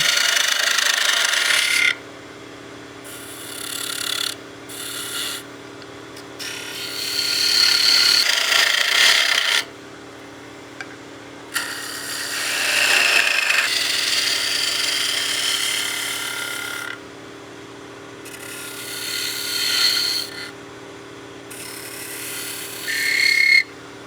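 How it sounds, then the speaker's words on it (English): Wood turning on a lathe as a snowman oil candle is rounded over and reduced in diameter: bursts of scraping, hissing cuts come and go over a steady low motor hum, with brief pauses between passes. "So we'll start rounding this over, reducing diameter as we go."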